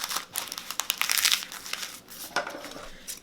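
Parchment paper crinkles and crackles as it is folded by hand, in a series of short crisp bursts with a denser rustling stretch in the middle, close and fairly quiet.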